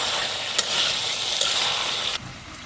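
Pangas fish curry sizzling down in a pan as its liquid cooks off, a close, steady frying hiss with a few stirring clicks, the sizzle easing slightly near the end, no voices.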